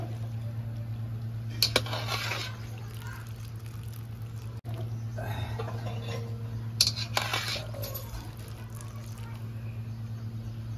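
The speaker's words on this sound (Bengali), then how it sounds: "পাস্তাটা আমি ছেঁকে নিচ্ছি জল থেকে" Boiled macaroni drained from its water in a home kitchen, with two short splashy pours and wet clatter against a strainer over a steady electrical hum, close and fairly quiet.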